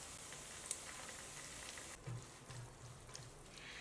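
Minced meat and soybean paste being stir-fried in a wok without added oil, a faint, steady sizzle with occasional soft stirring scrapes and no talking.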